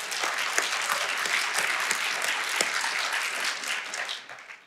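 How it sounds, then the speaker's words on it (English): A Sunday church audience claps in a steady, dense burst of applause, fairly close and fading out at the end. "you can go ahead and clap"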